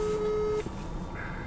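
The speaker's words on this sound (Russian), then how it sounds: "Сейчас Дэн звонит" A steady telephone tone holds for about half a second, then stops, followed by a faint higher beep near the end, quiet with low background hiss.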